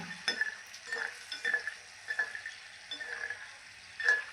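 Peanut pakoras deep-frying in oil over a low flame, with a soft steady sizzle broken by intermittent stirring clinks and scrapes, close and fairly quiet.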